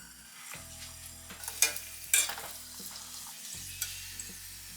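Banana vada made with Mysore bananas fries in hot oil, a close, steady sizzle with a few sharper crackles and spatters, and no voices.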